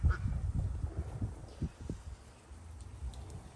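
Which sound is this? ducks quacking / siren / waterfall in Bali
ducks quacking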